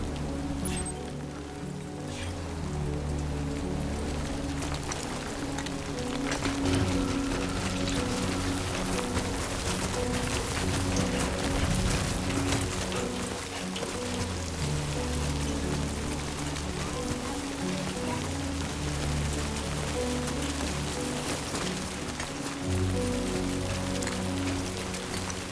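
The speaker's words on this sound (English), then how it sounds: "Great. Rain. Gotta move." Steady rain falls in the video game Death Stranding 2, a continuous dense patter on surfaces with a low ambient rumble underneath, holding evenly throughout with no talking.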